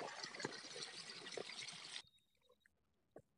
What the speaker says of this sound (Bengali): এইবার আমি জল ঢেলে দিচ্ছি।